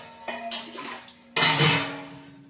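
Extra water for tomato pulao being poured into rice in a pot, two short splashing pours with a gap between them, close and fairly loud, with no talking.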